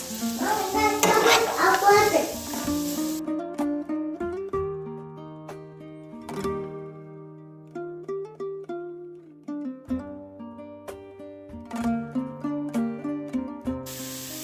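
Grated carrots fry in a pan with a broadband sizzle during the first three seconds. Soft melodic background music then carries on alone to the end.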